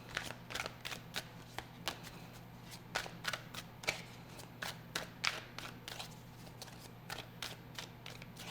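Tarot cards being shuffled by hand make repeated crisp riffling snaps in a steady rhythm, close and fairly quiet over a low constant hum, with no talking.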